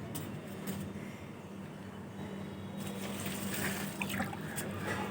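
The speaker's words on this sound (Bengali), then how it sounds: "এই সময় একটু জল দেবো এটা করে জল দেবো" Water poured onto small potted seedlings on a hot, dry day, a steady close trickle and splash running throughout at moderate level.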